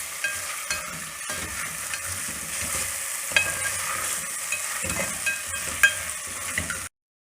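Grated potato halwa is stirred and fried in a pan, a steady close sizzle under repeated scraping strokes of a spoon, ending abruptly in silence.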